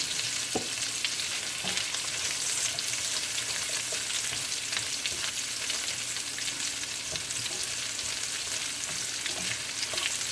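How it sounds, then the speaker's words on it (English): Onion sautéing in a pan for Jamaican-style ground beef burgers, a steady, dense sizzle that holds loud and even throughout, with a few faint stirring clicks and no talking. "now I'm gonna go ahead and add some onion. Just saute the onion."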